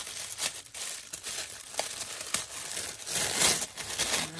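Gift wrapping paper and washi tape being peeled off a birthday present, crinkling and tearing in irregular bursts close by, with a louder rustle near the end.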